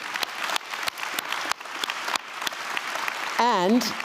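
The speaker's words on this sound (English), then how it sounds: "let's give all of them a warm round of applause, please" Conference audience applauding event organizers, steady scattered clapping from a seated crowd through the whole stretch, with a voice speaking near the end.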